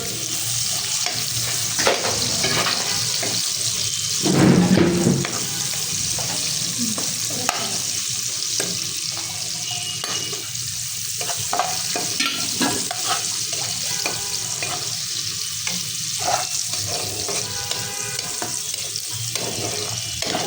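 Onions and garlic fry in a pan for homemade chicken chow mein, giving a loud, steady sizzle broken by repeated scraping stirring strokes throughout, with no voices.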